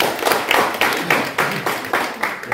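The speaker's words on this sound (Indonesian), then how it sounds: "Kita tepuk tangan dulu." An audience claps together in steady, rhythmic bursts at a village-level health orientation meeting on childbirth planning, a close group of hands striking in time for a few seconds with no talk over it.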